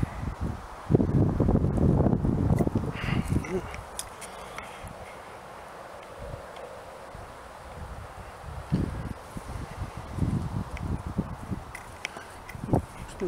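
Gusty wind buffets the microphone outdoors at an old lime kiln and chalk pit in Oxted, with heavier rumbling gusts early on and steadier blowing afterward, no one speaking.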